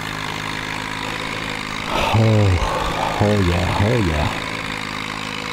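Tractor engine in Farming Simulator 19, a steady mid-pitched hum that rises in short revving bursts with sliding pitch, heard under a brief spoken exclamation.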